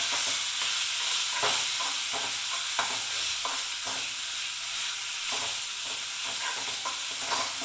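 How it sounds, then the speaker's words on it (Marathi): Masala for chickpea curry sizzles in hot oil as it is sautéed, a bright continuous frying hiss broken by repeated scraping strokes of a spatula stirring in the pan. "आता परत एकदा व्यवस्थित मसाला परतून घ्यायचा आहे आपल्याला."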